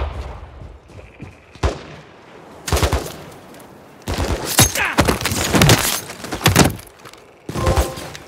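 Gunfire in Call of Duty: Modern Warfare III as a sniper is taken out: sharp bursts of shots, a single crack, then a dense rattling volley lasting several seconds, loud and close, followed by another short burst near the end.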